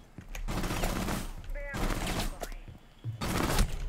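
Gunfire in the video game Rainbow Six Siege, bursts of automatic shots separated by brief pauses, with a voice talking over the shooting and short electronic tones in between.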